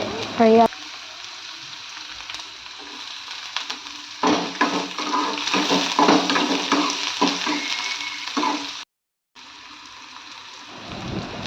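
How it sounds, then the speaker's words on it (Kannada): Onions and green chillies frying in a pan, a steady close sizzle with scraping stir strokes and a brief pause near the end; a voice speaks briefly at the start. "ಮೆಣಸಿನ್ಕಾಯಿ ಫ್ರೈ ಆದಮೇಲೆ ಈರುಳ್ಳಿ ಹಾಕಿದ್ದೀನಿ."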